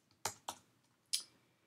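Three crisp, close computer keyboard keystrokes while typing PHP code: two quick taps, then a third after a short pause, all against quiet.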